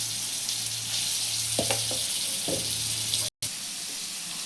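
Garlic paste frying in hot oil for a brinjal gojju gives a steady soft sizzle with a few light clinks and stirring scrapes, then a brief dropout near the end.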